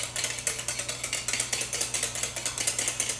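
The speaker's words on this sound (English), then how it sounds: "just beating up these egg yolks, which look kind of lost in this big bowl" Egg yolks are beaten in a big bowl for a lemon meringue pie, giving close, rapid, regular clicking strokes at about six per second, steady throughout with no voices.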